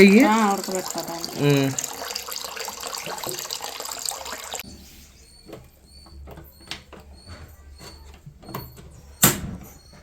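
Water being poured into a pot for boiling dal in a home kitchen, a splashing, tap-like rush in the first few seconds, then quieter clatter and scattered knocks, with a voice speaking over the start.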